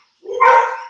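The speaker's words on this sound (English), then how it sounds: "Oh, the doggies are around. Yes, the dogs are around." A dog barks in a single short, fairly loud yelp at home, with no talk over it.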